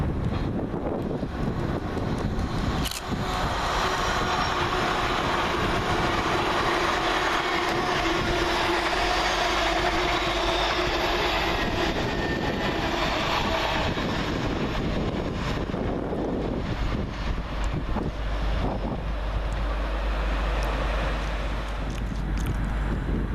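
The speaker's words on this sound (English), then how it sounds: "Next up through the middle for LNER is 800-110, working 1 Whiskey 16, the Highland Chieftain, from London King's Cross to Inverness" LNER Azuma 800-110 on the Highland Chieftain from London King's Cross to Inverness runs through the middle road of Peterborough station, a loud, steady rumble with wind buffeting over about twenty seconds and no talk.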